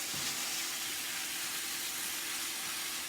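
Steak pieces for cheesesteak stuffed peppers hissing in a hot pan, a dense, even sizzle that holds steady and close for the whole stretch, no talking.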